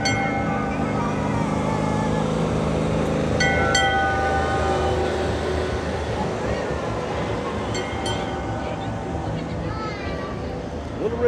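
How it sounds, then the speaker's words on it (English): A train rumbles past steadily with a continuous low roar and some squealing, while people talk nearby in an outdoor festival crowd at Race City Festival in Mooresville, North Carolina. "we'll continue our walking on down through here as this train comes by"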